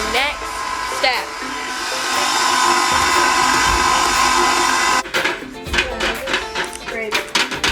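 A stand mixer whirs loudly while kneading bread dough, a steady motorized hum with rattling and scraping knocks as the bowl wall is scraped, and some talking underneath.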